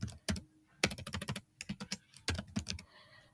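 Code is typed on a computer keyboard in quick close-up bursts of crisp key clicks, separated by short pauses, with no voice present.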